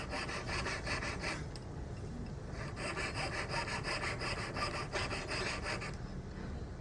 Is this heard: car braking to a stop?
no